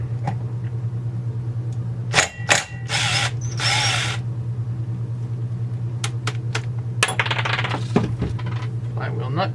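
Power tool spinning off the flywheel nut on a Husqvarna 372XP chainsaw during disassembly: a steady electric motor hum under short rattling impact bursts, close and fairly loud, with metallic clinks of the part and tools.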